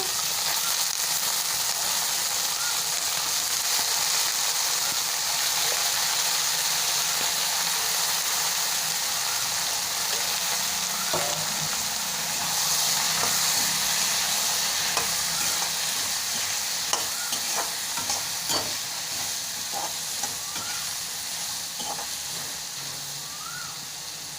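Potatoes fry in a pan with browned garlic and urad dal, giving a steady, loud, close sizzle and hiss that runs throughout, with occasional light scrapes and clicks of stirring.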